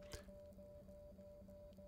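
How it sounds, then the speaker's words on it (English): An Apple Watch speaker in Water Lock mode pushes out water with a steady, faint, rapidly pulsing electronic tone, close up, with a brief click near the start. "That was water being ejected from that."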